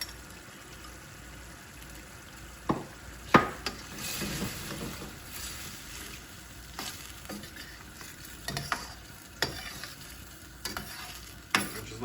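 Coconut curry chicken sauce with cream sizzling over high heat in a pan, a steady soft frying hiss broken by scattered clinks and scrapes of stirring.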